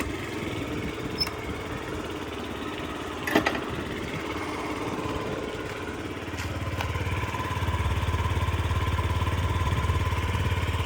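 A Yamaha Gear four-stroke fuel-injected scooter engine idles steadily, a low even putter that grows a bit louder and fuller toward the end, with a few faint clicks early on.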